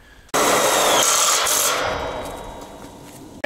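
Power drill driving a screw into a salvaged metal frame for a solar array, one loud burst of whirring that starts abruptly and gradually fades over about three seconds.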